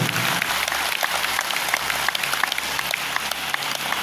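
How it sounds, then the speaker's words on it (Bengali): An audience claps steadily throughout, a dense stream of many hands applauding at once without pause. "ওনার জন্য একবার জোরদার হাততালি চাই"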